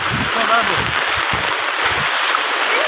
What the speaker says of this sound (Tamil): பாருங்க தண்ணி தண்ணி வரது